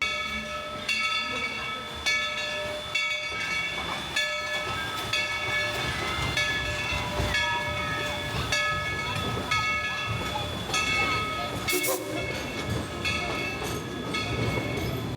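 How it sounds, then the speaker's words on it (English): A train at Dollywood rumbles and clatters nearby, its wheels and cars producing steady mechanical noise with tonal squeals and a brief sharp whistle-like burst partway through. "I just heard the train. It sounds like it's headed this way."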